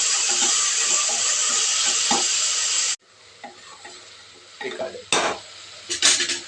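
Cut vegetables for a vegetable pulao, with a few cloves, sizzle loudly in hot oil in a pan for about three seconds, then the frying drops away to quiet stirring scrapes and light utensil clinks against the pan.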